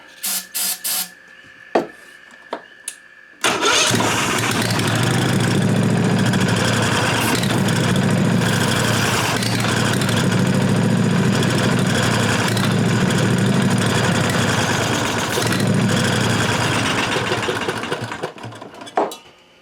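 A Briggs & Stratton Vanguard 16 HP engine running on carburetor cleaner sputters through a few brief pops, then catches and roars loudly and steadily up close for about fifteen seconds before dying away.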